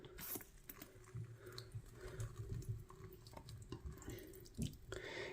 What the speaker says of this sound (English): So what I do is just literally soak all the bottom,